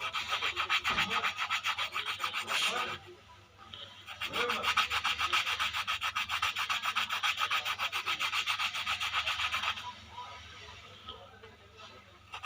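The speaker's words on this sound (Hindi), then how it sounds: "फंसाने के बाद आपने इसको हर जगह से घिस लेना है ऐसे, फिर इस जगह से भी ऐसे घिस लेना है ऐसे।" Sandpaper rubbed rapidly back and forth on a single needle lock stitch sewing machine shuttle, making a close, fast rasping scrub in two long bursts with a short pause between, with a faint voice underneath.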